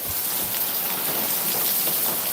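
Steady rain falls over sown farmland in a soft, even patter and hiss, moderately loud and continuous with no voices.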